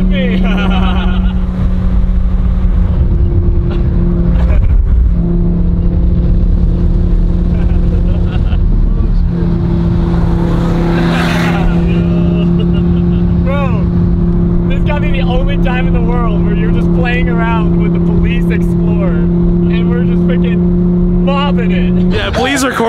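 A car engine drones steadily at close range right after a drag race against an Explorer, with tones shifting as it accelerates and people talking over it.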